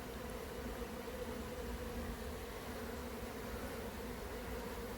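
Honeybees working at a hive entrance among linden trees at midday: a dense, continuous buzzing drone from many bees, close and steady, with no talking.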